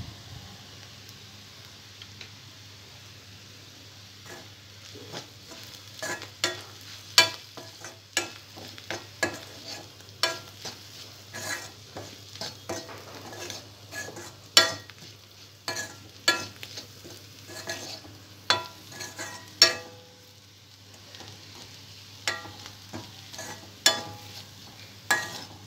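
Pieces of bitter gourd frying in a pan, a steady low sizzle broken by irregular sharp scrapes and clinks as a spatula stirs them, close up and with no speech.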